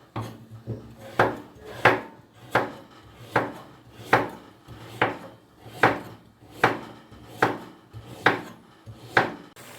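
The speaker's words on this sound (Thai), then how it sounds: "แล้วก็เราเอามาหั่นบางๆ จะได้สุกง่ายนะคะเวลาไปนึ่ง" A knife thinly slices pumpkin on a cutting board in a steady rhythm, about a dozen evenly spaced cuts, close by with no speech.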